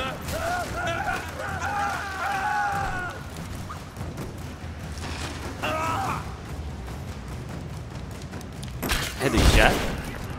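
Gunfire in the action video game Rise of the Tomb Raider, with a burst of shots and mechanical creaks, then a loud blast near the end, all over game ambience and some voices.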